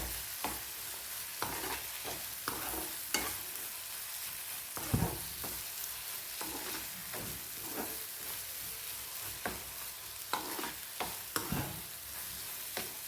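Boneless fish piddupu frying in hot oil, a dense continuous sizzle broken by regular spatula scrapes and stirring knocks, close and loud with no voices.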